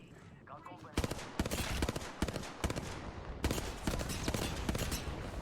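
In Apex Legends, heavy gunfire rips out in rapid, loud bursts of sharp cracks, with charge rifle shots mixed into a dense, continuous exchange that fills most of the clip.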